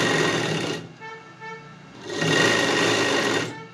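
Sewing machine stitching the lining of a puff sleeve, two close bursts of fast whirring stitches separated by a short pause.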